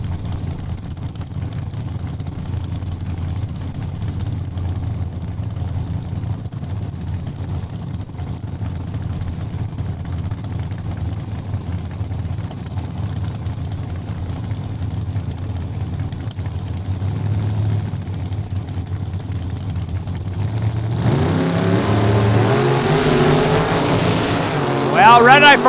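Drag race launch at Saskatchewan International Raceway: a 72 Dart and a 67 Camaro idle low and steady before engines surge into a loud, rising roar near the end, with an announcer's voice over the track noise.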